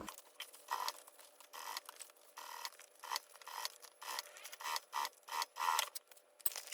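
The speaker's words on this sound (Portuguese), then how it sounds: "Nós vamos ir acertando ele aqui e fazer um pesponto aqui para assentar tudo." A sewing machine topstitches along the edge of a fabric waist bag, a quiet mechanical patter of stitching in short runs that start and stop, with no talk.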